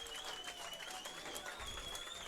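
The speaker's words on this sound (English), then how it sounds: "get a great hand, a well-deserved hand from the crowd as he exits the game" A minor-league baseball crowd gives steady, moderately distant applause as a pitcher leaves the game, with a thin whistle-like tone running over the clapping.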